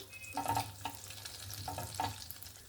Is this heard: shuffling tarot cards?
no